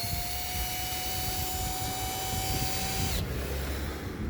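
A steady motorized whir with a faint whine that cuts off near the end, leaving a lower rumble behind. A KIMO 12V cordless drill runs close by on clutch setting 1.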